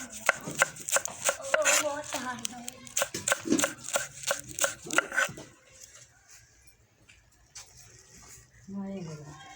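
Saag (mustard greens) being finely chopped by hand with a cleaver, a rapid series of sharp, close blade strikes on a board, then a pause with scattered lighter taps, a voice talking over it.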